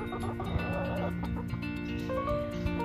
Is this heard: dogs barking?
no